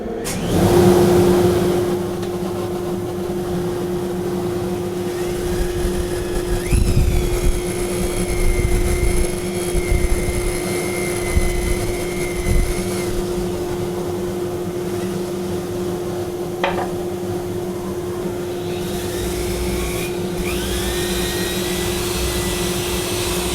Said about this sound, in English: So turn on the dust collector first.